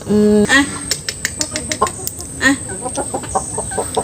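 Clucking from a broiler hen on a farm, a drawn-out cackle at the start followed by a run of short, close clucks with small scuffling noises between them.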